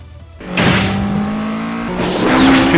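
A Toyota AE86 racing on a mountain pass in Initial D Battle Stage 2 cuts in with a loud engine roar that holds a steady pitch, then climbs sharply in a hard rev near the end, with a brief hint of tire squeal.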